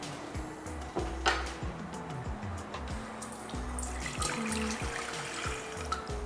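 Water runs steadily from a tap, splashing into a cooking pot with occasional clinks and knocks of cookware; no one speaks.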